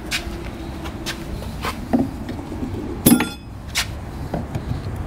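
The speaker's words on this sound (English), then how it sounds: "Wedge the screwdriver in between the wood and the metal and just pop them off." A screwdriver pries metal clips off a wooden crate holding a 2025 Baja Mobility Raptor 2 four-wheel scooter, giving a few sharp clinks and knocks, with the loudest snap near the middle, over a faint room background.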